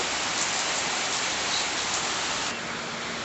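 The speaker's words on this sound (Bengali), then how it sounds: "বৃষ্টি দেখো খুবই হচ্ছে" Dense, steady downpour roars continuously at close range, a thick hiss of heavy rain with no voices.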